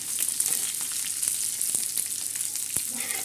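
Onion, coriander seeds and whole spices roast on a griddle for black masala, giving a continuous dense crackling sizzle with scattered sharp pops and some stirring scrapes. The sound is close and has no talk over it.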